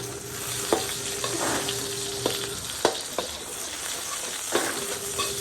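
Garlic sizzles and fries steadily in pork lard in a pan, with a spatula scraping and clinking against the pan several times over the constant frying hiss, and no talking.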